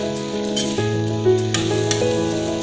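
Vegetable bhaji fries in oil in a wok, sizzling and crackling steadily up close, with a few sharper pops and no talking.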